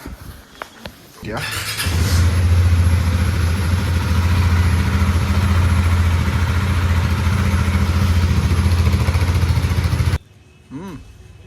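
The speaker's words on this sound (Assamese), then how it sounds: "আমাৰ বাইকবোৰ কল ষ্টাৰ্ট কৰিম এতিয়া" Motorcycles being started in Sangti Valley, Arunachal Pradesh: a few sharp clicks, then an engine catches and runs loud and steady with a deep, even throb for about nine seconds before cutting off abruptly.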